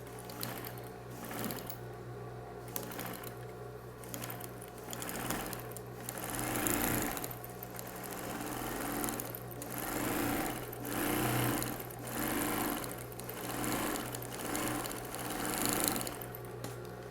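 A domestic sewing machine stitches steadily along the edge of a bathroom set piece, its motor whirring in a continuous mechanical rattle that swells and eases in short bursts, close and alone.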